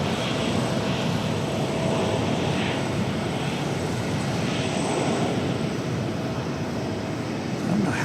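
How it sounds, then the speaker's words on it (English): A Japan Airlines heavy jet goes around at DFW airport with a steady, broad engine roar heard from a distance, smooth and sustained for the whole stretch, with no voices over it. "We've got a go around."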